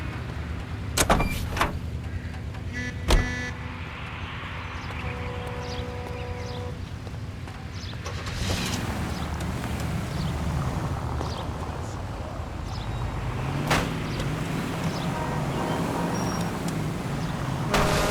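A commandeered car in the video game L.A. Noire: a door thumps, then the engine revs and the car drives on with a steady rumble while voices talk over it.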